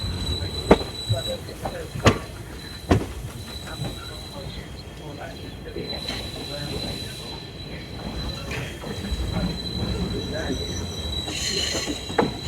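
A train stands at a railway station in the early morning, its wheels squealing and rumbling with a few sharp knocks early on, a steady mechanical bed with faint voices in the background.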